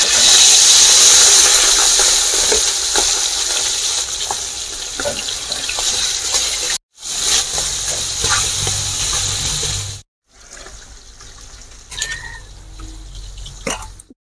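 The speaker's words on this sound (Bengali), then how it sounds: "তেলের মধ্যে এবার মাছ দিয়ে দেব" Pieces of katla fish hiss and sizzle as they drop into hot oil in a wok, a loud continuous frying crackle broken by brief pauses, with small pops and spatters.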